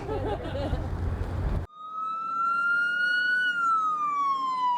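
A wailing siren rises and slowly falls, loud and sustained, marking the start of the Tour de Caribou race in Williams Lake, after a brief stretch of crowd noise cuts out.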